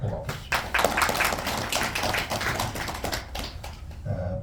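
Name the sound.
audience applause at party event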